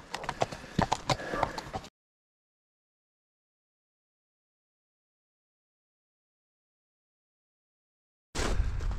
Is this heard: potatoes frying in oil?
no